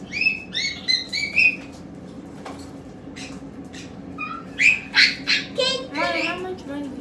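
Rare caged birds give bright, chirpy calls in short bursts, some close and some further off, over a low steady room background with quiet voices at points.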